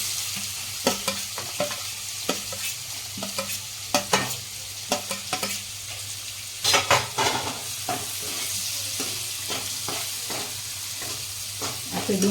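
Chopped onion sautéing in a pan for dal baati, with a continuous close sizzle and frequent scraping stirs from a utensil against the metal, heard alone without speech.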